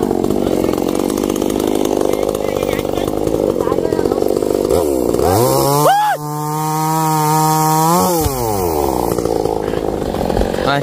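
A chainsaw cutting down trees runs with a steady buzzing drone, then revs sharply to a high, sustained whine for a couple of seconds before easing back to its working note.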